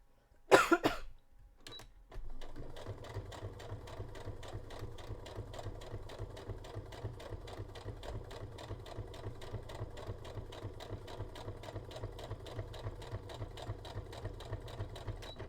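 A sewing machine fitted with a stretch needle runs steadily through fabric with a fast, even mechanical stitching rhythm, after a cough near the start, close and fairly quiet.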